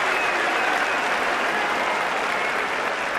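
Crowd applause rolls through the sumo arena at the Kyushu Basho 2025 after a makuuchi bout win, a steady even wash of clapping with no break.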